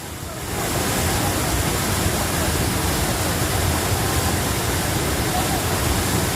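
Mo Pang waterfall in Pai, Thailand, roars as a steady, loud broadband rush of falling water that swells up within the first second and then holds constant throughout.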